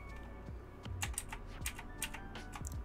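Keys are pressed on a computer keyboard for a Control C, Control V shortcut: a short run of close, crisp clicks in an uneven rhythm over a soft tonal background, with no talking.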